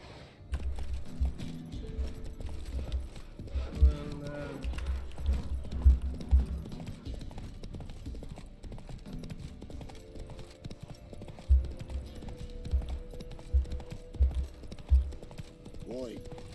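Hoofbeats of Roach, Geralt's horse in the video game The Witcher 3: Wild Hunt, clip-clopping in uneven bursts of steps over a background game hum, with a pause mid-way before the trotting resumes.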